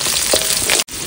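Garlic added to chopped onion, dried red chilli and cumin crackles in hot oil for a country chicken dish cooked on a boat; a short burst of dense sizzling cut by a brief gap.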